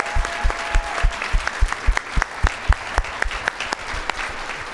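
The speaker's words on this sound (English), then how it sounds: "let's give these guys a big round of applause" Audience round of applause for a board, loud near claps in a brisk rhythm running throughout, with a faint voice briefly under them.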